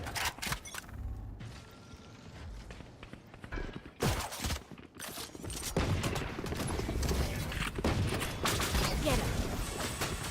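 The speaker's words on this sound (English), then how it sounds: "really clean shots though coming in from the opposite side" Rapid gunfire from a competitive Valorant match cracks out in sharp bursts and scattered single shots, mixed with footsteps and mechanical clicks and rising into denser volleys toward the end.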